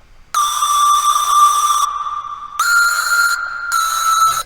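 A phasey synth lead from Serum, summed to mono for a melodic dubstep patch, plays bright sustained tones in three held phrases with a hollow, ringing character and short gaps between them.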